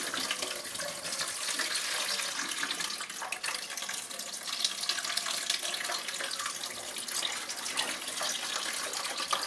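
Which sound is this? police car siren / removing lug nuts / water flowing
water flowing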